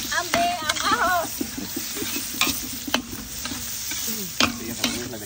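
Garlic and onion hiss and sizzle in a hot oiled pan outdoors as a utensil stirs and scrapes with scattered clicks, while people talk over the cooking.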